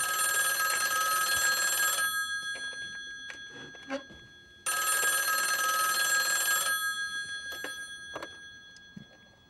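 A telephone in the film No Country for Old Men rings in two long, loud electronic bursts with a quiet gap between them, alone with no talk.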